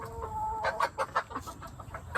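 Polish hen with a top-hat crest clucking in a backyard flock, a series of short close clucks in an uneven rhythm following a brief higher call.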